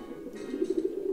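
A pigeon in the game Jazzpunk gives a short, close, throaty coo of a few pulsing notes against a quiet background.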